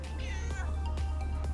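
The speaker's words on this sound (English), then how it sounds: "Scratchy meow." A cat gives a scratchy, rasping meow over about a second and a half, the call rising and falling close by against steady low background hum.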